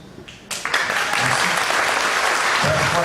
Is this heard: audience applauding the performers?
yes